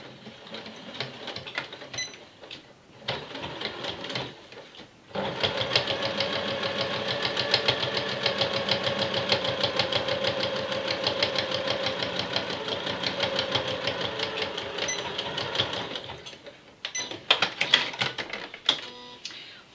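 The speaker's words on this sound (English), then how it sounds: "place it in the machine, and stitch close to the folded pressed edge" A sewing machine stitching along a folded, pressed seam allowance: a few short bursts, then a long steady run of fast rhythmic needle chatter with a motor hum, and stop-start stitching again at the end.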